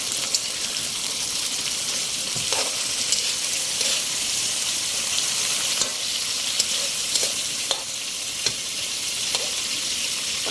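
Chicken pieces sizzle and spit in a hot frying pan at a steady low level, with occasional stirring scrapes and clinks, and no talk.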